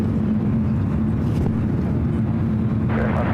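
A Qantas Airbus A380 going around at San Francisco airport gives a steady, broad, distant roar of jet engines that holds level throughout, with wind buffeting the microphone.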